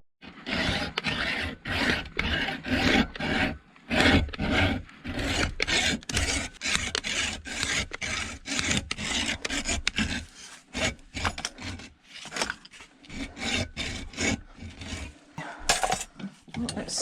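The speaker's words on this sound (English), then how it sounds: "so I'm going to go all the way around with my hacksaw" A hacksaw rasps through copper scrap in a series of quick back-and-forth strokes, close and loud, steady for most of the stretch and breaking into shorter choppy bursts near the end.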